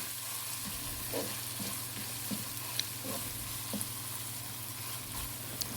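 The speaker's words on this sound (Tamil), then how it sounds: "அது நல்லா சீக்கிரமாக வதங்கிறதுக்கு ஒரு பிஞ்ச் உப்பு சேர்த்து தான் நான் வதக்கிட்டுருக்கேன்" Tomatoes with a pinch of salt sauté in a pan, a faint steady sizzle with occasional soft stirring taps throughout.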